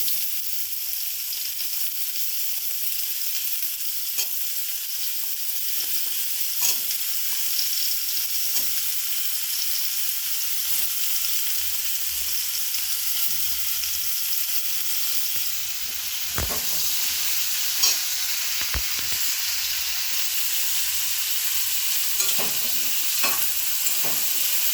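Ridge gourd, eggplant and pumpkin added to fried potatoes and pointed gourd in a pan for a mixed vegetable curry with bori. They sizzle steadily in oil while a spatula scrapes and stirs at intervals, with no talking.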